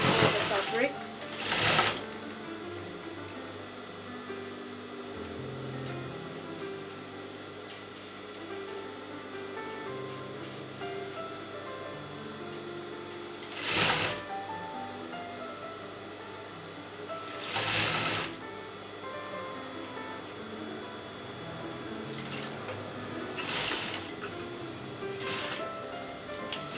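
Sewing machine stitching the lining fabric of a kurta, a steady continuous motor whir with periodic louder bursts and clicks, close and fairly quiet, while a voice talks over it.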